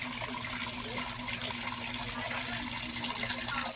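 Free-flowing water runs steadily at Ariman near Rizal Beach, a constant close splashing stream with no break and no voices.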